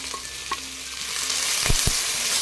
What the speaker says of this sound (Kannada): ಮೊದಲಿಗೆ ಕಟ್ ಮಾಡಿಟ್ಟುಕೊಂಡ ಈರುಳ್ಳಿಯನ್ನು ಚೆನ್ನಾಗಿ ಫ್ರೈ ಮಾಡೋಣ